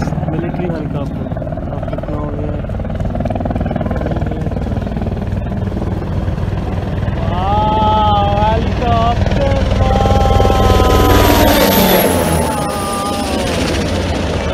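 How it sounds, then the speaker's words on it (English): Military helicopter flying over a dhow cruise in Musandam, Oman, a loud, continuous rotor and engine rumble that builds, with boat noise, a person speaking and whistling tones over it. "Suddenly you see this military helicopter."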